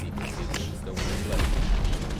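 Explosions during a GTA 5 Cayo Perico heist near the submarine, heard as a rumbling series of booms with heavy low-end impacts that swell louder toward the end.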